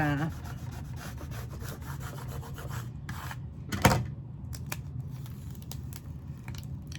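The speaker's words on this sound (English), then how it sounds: "you just want to rub this real good, okay?" Scraper tool rubbed firmly over transfer tape on cut vinyl for a large home decor sign, a steady close scratchy rubbing with one louder scrape partway through.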